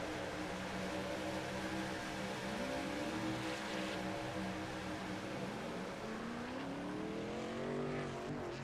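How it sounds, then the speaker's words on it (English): A lone race truck, the leader, pulls onto pit road and into its stall at a short-track race while other engines keep roaring. A continuous, fairly loud engine drone with rising and falling revs, and no voices. "So one lone truck has hit pit lane."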